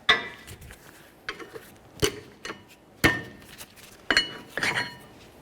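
Metal brake pads from a 2014-2020 Nissan Rogue rear brake job lifted out and set down, giving several sharp metallic clinks and clatters spaced over a few seconds, close by with no talking.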